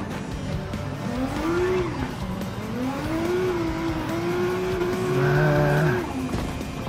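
A Group B rally car in Gran Turismo 7 on PS5 revving hard, its engine note climbing and falling through gear changes with a rising whine near the end, loud and continuous with no talk.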